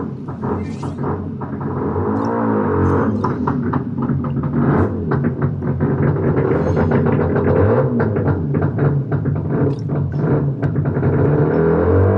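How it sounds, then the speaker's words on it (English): A car engine outside the bedroom window revs and rumbles, a continuous low drone with surges throughout, moderately loud and with no talk. "Is he finally done revving petrol fumes into my fucking bedroom?"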